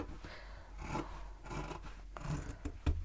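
Scissors snip crochet yarn, ordinary household scissors rather than tailor's shears, giving a few soft rasping cuts close by over a low background hum.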